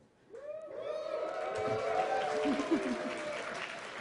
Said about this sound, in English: hold your applause real quick